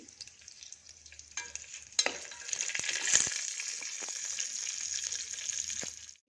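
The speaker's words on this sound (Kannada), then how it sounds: "ಸಾಸಿವೆ ಕಡಲೆಬೇಳೆ ಜೀರಿಗೆ ಹಾಕ್ತೀನಿ ಅದೆಲ್ಲ ಫ್ರೈ ಆದಮೇಲೆ ಈರುಳ್ಳಿ ಹಾಕೋತೀನಿ ಇದೆಲ್ಲ ಸ್ವಲ್ಪ ಚಟಪಟ ಅಂತ ಸಿಡಿಲಿ" Mustard seeds, chana dal and cumin frying in hot oil, a close steady crackling sizzle with sharp pops and spits, swelling after a couple of seconds and holding loud to the end.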